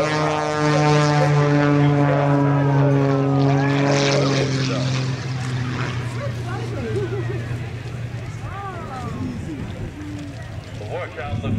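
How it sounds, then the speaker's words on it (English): An aerobatic propeller airplane with a Lycoming engine performs at a Marine Corps air show in Hawaii, its engine droning with a sustained tone that rises and shifts in pitch as it maneuvers, loud and near, with a commentator talking throughout. "that Kirby puts an airplane through is testament to the power and also to the capability of the Lycoming engine."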